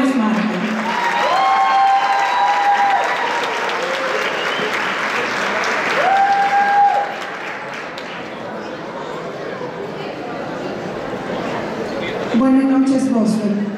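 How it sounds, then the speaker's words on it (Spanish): An audience at an award gala applauds steadily and warmly for a honoree over several seconds. The clapping swells and eases, with voices and tonal sounds mixed in. "Un fuerte aplauso para Milagros Marte."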